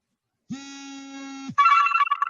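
A telephone rings close by with a steady one-second electronic tone, followed by a brighter, warbling ring burst, with no talking over it.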